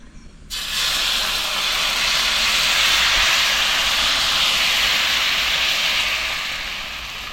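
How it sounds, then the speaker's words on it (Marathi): Jowar ghavane batter hits a hot, oiled tawa over high gas and breaks into a loud, broad hiss of sizzling. The sizzle starts suddenly after a quiet moment and stays strong, easing slightly toward the end. "तव्याला आपण असं तेल लावून घ्यायचं गॅस फास्ट करून ना तवा तापवून घेतलाय बघा आता आपण धावणं टाकूया"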